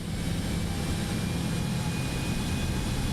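Cessna Citation X business jet engines in Microsoft Flight Simulator 2024 spool up as the throttle opens, a steady, loud, even roar with a thin high whine held throughout and no talk.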